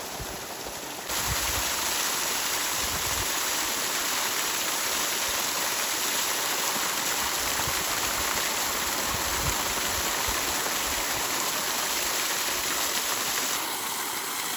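Water pours from a farm fountain where someone is bathing, a dense steady splashing rush that runs loud and unbroken from about a second in to the end.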